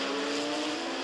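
Can-Am race cars, including 2-liter class cars, roar past in a steady loud engine drone, a brief burst of racing noise with no voices.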